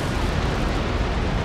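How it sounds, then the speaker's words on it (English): Ship cannons firing a broadside in Empire: Total War, a naval battle in the game: a dense, sustained low rumble of overlapping booms, loud and continuous, with no distinct separate shots. "I'm going to unleash my cannons on Jim's ship there."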